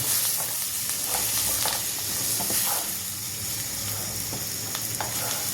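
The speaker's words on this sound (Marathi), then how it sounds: "गॅस थोडा मंद करायचा, जळायला नको म्हणून असं हलवायचं" A gram flour mixture sizzles in a pan on low heat while a spoon stirs it. Steady frying hiss runs throughout, with repeated soft scraping strokes, close up and with no talking.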